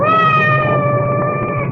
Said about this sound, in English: I hope that cat isn't trapped somewhere.